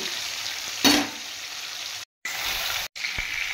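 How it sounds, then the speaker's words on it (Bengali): Rohu fish pieces sizzle in hot oil with a close, continuous frying hiss, broken by a brief burst of louder spattering early on and two short cuts to silence. "মাছগুলোকে ভেজে নিচ্ছি।"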